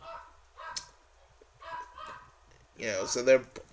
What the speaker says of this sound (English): So our other dogs are barking, but don't listen to that.